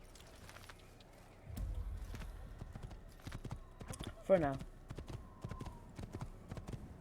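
Horse hooves clip-clopping in Assassin's Creed, a rhythmic series of hoof strikes on hard ground with a short whinny midway, while someone talks briefly.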